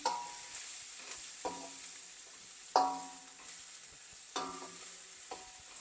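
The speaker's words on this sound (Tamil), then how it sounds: "இந்த பூண்டு அதெல்லாம் கொஞ்சம் இந்த எண்ணெயில் கொஞ்சம் ஃப்ரை ஆகட்டும்" Garlic and spices fry gently in oil for an elephant yam masala, a quiet crackle broken by several distinct clinks and scrapes of a spoon against the pan, spaced a second or so apart.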